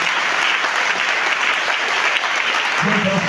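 A church congregation breaks into sustained, dense applause that fills the room evenly throughout, with a low voice or cheer rising near the end.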